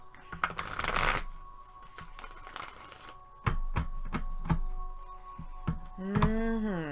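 A Sexual Magic tarot deck being shuffled by hand, with bursts of riffling and soft card slaps and taps in several rounds, close and fairly quiet over a faint hum.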